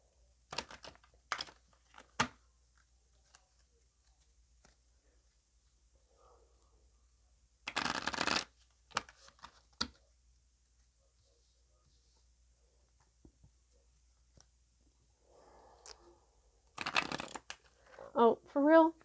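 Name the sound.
shuffling a Gaia oracle card deck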